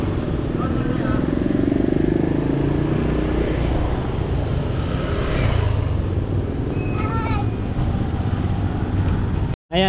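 A Yamaha Mio 125 motorcycle engine running nearby with a steady droning rumble, mixed with street noise and some conversation, ending in an abrupt cut.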